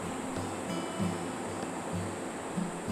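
Clear jade-green water of the Hantan River rushing between rocky banks and cliffs in Gangwon-do, a steady broadband wash of flowing water with no voices.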